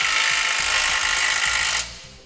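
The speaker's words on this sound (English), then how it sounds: "For our 1/2 inch bolt at the bottom here, we'll be using a 3/4 inch socket." A power tool whirs in a loud, steady burst as a socket drives bolts on a Demco tabless base plate on a 2018 Jeep JL Wrangler Unlimited, then cuts off abruptly.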